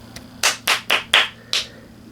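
Five firm hand claps ring out close and alone, evenly spaced after one faint tap, each a crisp smack against a quiet background.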